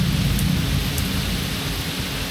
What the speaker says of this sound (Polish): Ale aż grzmi